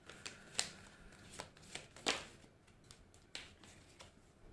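Tarot cards being drawn and shuffled by hand during a reading, giving a series of soft, crisp card snaps and riffles spaced irregularly, close and quiet with no talking.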